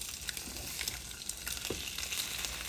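An egg frying in a pan for avocado toast, giving a steady low crackling sizzle with small pops and faint scraping from turning it, close and continuous with no talk.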